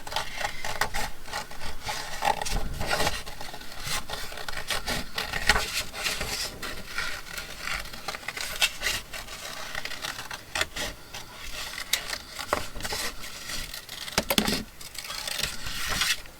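A craft piece is trimmed by hand, with soft, irregular scraping and rubbing strokes at close range, fairly quiet and repeated in short bursts over a faint background.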